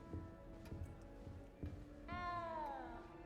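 A cat in Hogwarts Legacy gives a single drawn-out meow, close and clear, following a few quiet ticking knocks.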